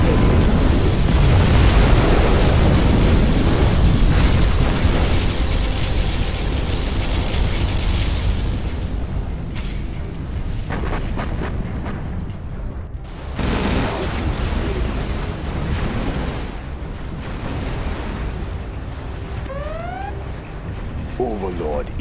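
Particle cannon blasts and Scud Storm missile explosions in Command & Conquer Generals Zero Hour roar as a dense, loud wash of booming detonations, easing into a rumbling tail, with brief game voice announcements.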